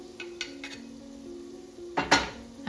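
Mushrooms cook in a pan for creamy mushroom soup, a low steady sizzle under a few light clinks of a utensil, then a sharper scrape and clatter of metal against the pan near the end.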